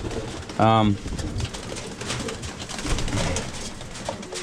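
A single short pigeon coo, low and close, from pigeons in a cage, over a steady rustling background of birds shuffling and faint murmurs.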